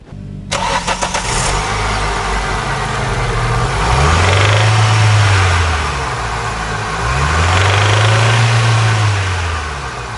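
A car engine running on 5W30 oil cranks and catches, then settles into a steady, loud idle with two slow revs swelling and easing, heard close up with no talking.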